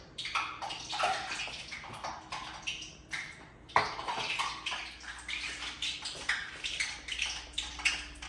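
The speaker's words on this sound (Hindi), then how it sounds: "तो जब हमारा हो जाएगा तब इसके अंदर मैं डाल देता हूँ ये हमारी कचौरियाँ।" Halwai-style kachoris dropped into hot oil at medium heat, bubbling and crackling in an irregular, lively stream of pops close by, with no voices.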